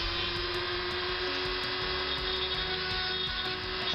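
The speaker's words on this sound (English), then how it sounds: "I'm drilling, ready to tap the posts," A small drill bores holes of about 1.7 mm into posts on a custom Corvette model, ready for M2 tapping. It gives a steady, close motorized whine that runs continuously, with slight shifts in pitch as the bit cuts.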